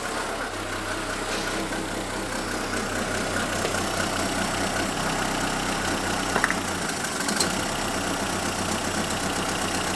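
A car engine idles roughly with an ignition fault on one cylinder, a steady low drone with an uneven pulse, close and continuous, its speed shifting slightly late on.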